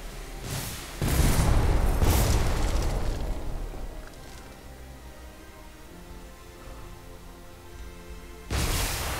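Torpedo launcher in Airship Kingdoms Adrift firing with the trigger held down: a deep booming launch, a couple of heavy thumps in quick succession, a long rumbling fade, then another loud boom at the end.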